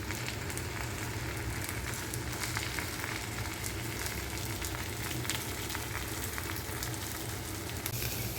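Thalipeeth, a bottle gourd flatbread, frying in oil on a hot griddle, giving a steady, continuous close sizzle and crackle throughout with no talk.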